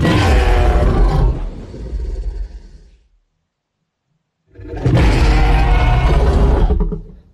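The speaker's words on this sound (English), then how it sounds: "Did you guys hear Sammy roar?" A dinosaur in a video game lets out two long, loud roars separated by a brief silence, close and unaccompanied by talk.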